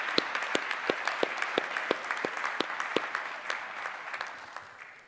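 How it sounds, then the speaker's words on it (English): Audience applause at a nursing program commencement ceremony: steady broadband clapping from a large seated crowd with distinct sharp claps standing out, sustained then gradually fading toward the end. "let's pat ourselves on the back a little bit and give a round of applause"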